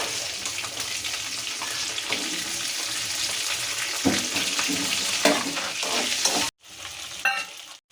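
Small shallots and garlic frying in oil for vatha kulambu crackle and sizzle steadily up close while a spoon scrapes and stirs them, then the sound cuts out briefly and resumes more quietly.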